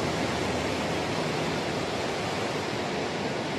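Ocean waves at the Indonesian south coast, a continuous broadband roar of surf, loud and steady with no distinct breaks and no voices.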